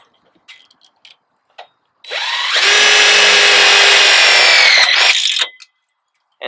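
A power drill drives a tech screw through an aluminum wire channel, spinning up in one loud, sustained whine lasting about three seconds after a few light clicks, then winding down, close by.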